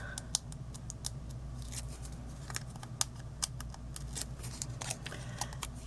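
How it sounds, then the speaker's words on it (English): Adhesive tape peeled off a Halloween treat box, a series of small sharp clicks and crackling snaps scattered over a low steady hum, close and fairly quiet. "So let me pull the tape off of here first."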